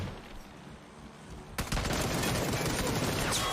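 Automatic gunfire spraying during a competitive PUBG esports match, bursting in abruptly after a quieter stretch and continuing as a loud, dense rattle of rapid shots until the end.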